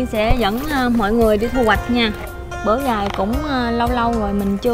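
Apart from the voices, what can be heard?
No everyday noise stands out behind the speech.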